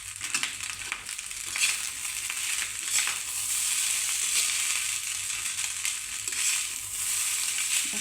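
Fried rice with freshly added spring onions is stir-fried in a hot pan, a continuous loud sizzle with scraping, crunchy stirring strokes throughout and no talking.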